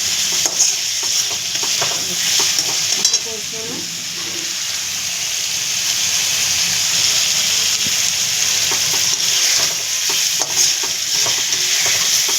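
Spices frying in oil in a pan for an egg dish, a loud steady close sizzle with scraping stirring strokes throughout, and faint talk in the background.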